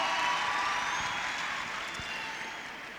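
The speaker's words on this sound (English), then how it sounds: "Let's give him a big round of applause." Audience at a memorial service applauding, a broad steady wash of clapping that fades gradually over a few seconds, with no voices.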